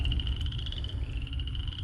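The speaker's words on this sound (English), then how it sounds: "you hear frogs, you know you're on the right path" Frogs croaking near a ditch of water, a steady pulsing chorus of calls with a bright trilling tone over a low rumbling background, fairly close and with no talk.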